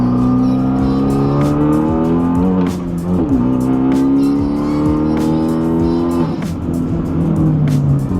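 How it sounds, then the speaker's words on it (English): A manual Hyundai Veloster Turbo pulls hard, its engine note climbing loudly through several rising sweeps with brief dips at the gear changes, close and without talk. "I'm gonna do a pull on Martin's car for the first time."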